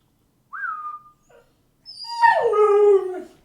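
Dog making a short whistle-like whine, a brief pause, then a loud, drawn-out howl that sweeps up and slowly falls, close by with no talking.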